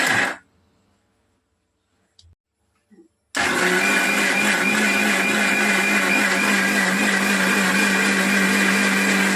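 A kitchen mixer grinder blending peanut chutney with roasted gram, cumin and garlic: brief whirring and a quiet gap with small clicks, then the motor roars up loud and holds a steady, close, high grinding drone to the end.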